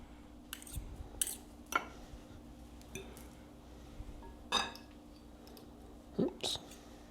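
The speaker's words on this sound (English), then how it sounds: "I never take out enough cutlery." Metal cutlery clinking on dishes at a table while serving crab cakes, sparse sharp clinks and taps scattered over several seconds, with quiet talk in the background.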